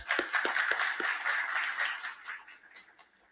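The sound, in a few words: applause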